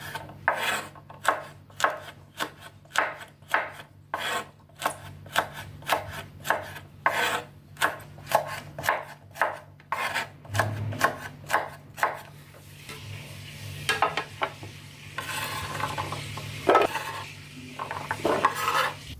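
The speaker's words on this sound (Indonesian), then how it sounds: "Buncis sudah dipotong-potong semua" A knife repeatedly chops green beans on a cutting board while preparing a stir-fry of green beans with meatballs, giving a steady run of sharp, close knocks that thin into softer scraping and rustling toward the end.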